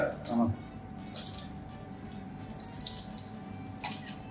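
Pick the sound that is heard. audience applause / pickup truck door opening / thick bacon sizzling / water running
water running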